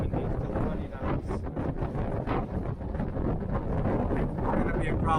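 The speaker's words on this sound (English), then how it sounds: "Very windy still here. Very windy, still 20 knots." Strong wind of about 20 knots, Santa Ana conditions while sailing in Santa Monica Bay, buffets the microphone in loud, continuous gusts, with rushing water noise underneath and no voices.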